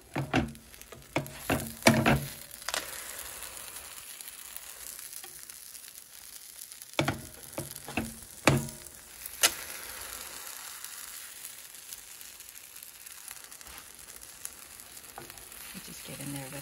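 Keto chocolate chip pancakes frying in a pan on medium-low heat, with a steady soft sizzle broken by sharp scraping and clattering knocks of utensils against the pan, no voices.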